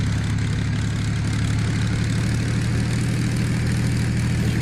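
A P-51D Mustang's piston engine run up in the WW2 flight game Gunship Sequel, a loud, steady, droning propeller roar with a deep rhythmic throb, continuous and unbroken throughout.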